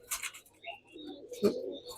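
Pigeons in a pigeon house with chicks, giving a few soft, low coos and some fluttery rustling, faint and close with no talk.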